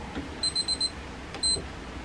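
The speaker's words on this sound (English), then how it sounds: "To stop the alarm, press any buttons" Alarm of a Yeslamp EVO adjustable LED desk lamp: a quick run of four high electronic beeps, a pause, then one longer beep, faint and isolated in a quiet room.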